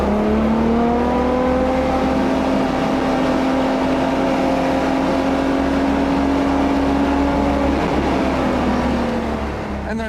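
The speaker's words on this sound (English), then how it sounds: "there's some times where you just want to be quiet and let the Ferrari do its thing" A Ferrari V12 engine revs loud and close, a smooth, rich sustained tone climbing and holding steady for several seconds before easing slightly at the end.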